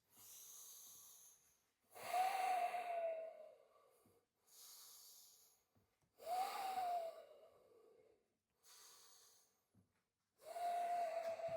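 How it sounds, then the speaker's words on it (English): Slow, deep yoga breaths in a quiet room, each long inhale and exhale audible as a breathy hiss, repeating in an even rhythm with short pauses between them. "And let's take 3 breaths."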